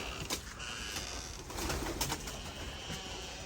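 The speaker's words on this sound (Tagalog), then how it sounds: "meron ding kalapate si Tito" Pigeons coo softly on a large poultry farm, with faint low calls over a steady background of farm noise and a few brief sharp sounds.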